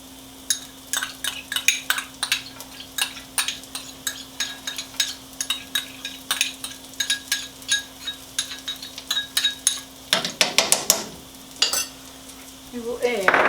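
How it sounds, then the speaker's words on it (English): Garlic sizzling in a hot pan while pineapple fried rice is cooked, with steady frying hiss, repeated clinks and scrapes of a utensil stirring, and a brief burst of louder sizzle near the end. "We're going to add our garlic"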